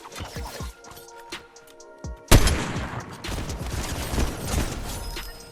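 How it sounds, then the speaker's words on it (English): Sniper gunfire in Fortnite Chapter 5 hits as one sharp, loud crack partway through, followed by dense, sustained in-game action noise and scattered smaller impacts. "While collecting loot, I end up getting sniped at"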